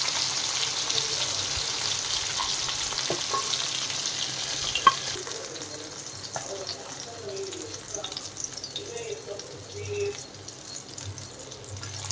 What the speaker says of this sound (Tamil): வேகாத மீன்லாம் கொஞ்சம் அப்படியே எடுத்துடலாம். வெந்த மீன்லாம் எடுத்துடலாம். இது நல்லா வெந்துட்டு இருக்கு.